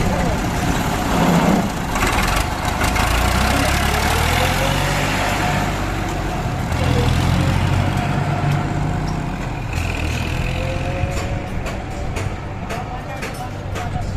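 A tractor engine idles steadily with a low rumbling chug, close and continuous, while voices talk over it after a brake check.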